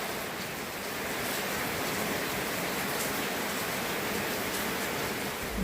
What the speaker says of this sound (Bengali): বৃষ্টি তো খুব জোরে বৃষ্টি পড়ছে কিন্তু